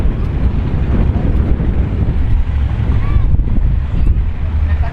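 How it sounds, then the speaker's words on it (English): Wind buffets and rumbles across the microphone at a drag racing track, Orlando Speed World, loud, close gusty roar with faint higher whooshes, steady for the whole stretch. "It's a little windy right now too."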